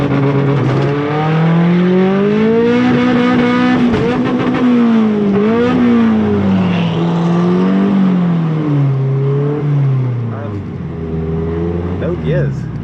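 A turbocharged 1.8T engine in a Mk2 Golf drones loud and steady during a drag race, its pitch rising and dipping through revs, heard close from inside the car.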